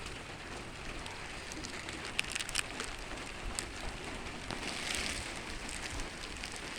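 Soft, steady light morning rain patters on surfaces with scattered drips, a quiet continuous hiss without voices.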